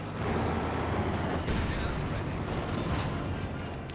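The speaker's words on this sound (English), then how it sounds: "we got the double heavy mortars there blasting away as well" Heavy mortars and artillery firing in the Company of Heroes 2 video game, a dense, loud barrage of booms and gunfire rumbling continuously under a voice.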